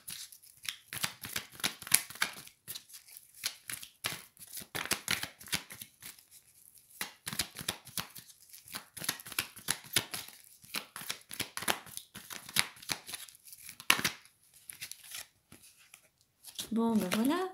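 Tarot cards are shuffled in a steady run of quick, close riffling and slapping bursts with short pauses, and a voice speaks briefly near the end.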